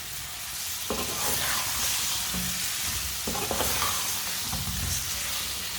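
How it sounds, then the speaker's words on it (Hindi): Boiled potatoes being stirred and fried in masala, a steady close sizzle broken by several scraping spoon strokes through the pan. "इसे अच्छी तरह मिक्स कर लेंगे।"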